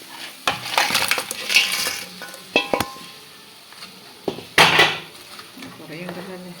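Crab pieces tumble into a metal cooking pot for crab masala, making a handful of clattering knocks and scrapes close by, with a sharp burst of rattling in the middle and quieter stirring noises between.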